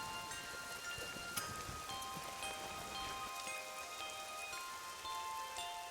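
Steady rain patters on surfaces at a rural property with a large 18th-century granary, a dense, even hiss of drops with scattered sharper plinks, constant throughout and no voices.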